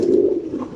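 Royal tumbler pigeons at a large pigeon farm give a short, low, steady coo, close and alone with no talk.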